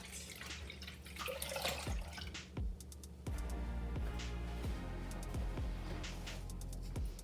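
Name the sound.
pouring water and milk into a big pot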